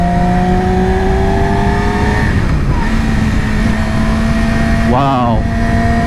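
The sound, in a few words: Yamaha R6 motorcycle engine riding on mountain roads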